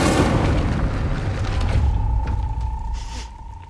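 A deep, booming fire-spell blast from the Incendio charm in Hogwarts Legacy bursts loudly at the start, then decays into crackling rumble with a faint sustained tone lingering toward the end.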